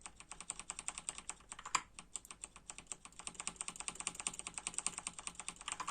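A computer keyboard clatters with rapid, uneven keypresses during gameplay, close and quiet, tapping continuously in bursts without any voices.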